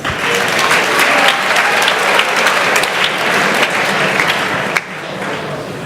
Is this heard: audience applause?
yes